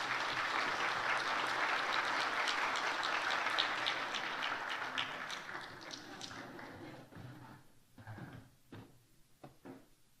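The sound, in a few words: congregation applause in celebration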